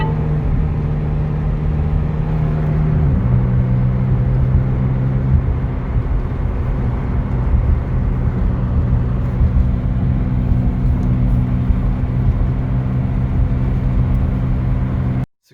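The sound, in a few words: car engine while driving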